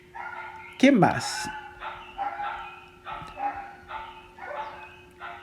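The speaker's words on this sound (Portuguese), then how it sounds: "os cachorros resolveram enlouquecer agora aqui" Several dogs bark and yip in bursts, one loud close outburst followed by repeated barking at moderate distance, with someone speaking over them.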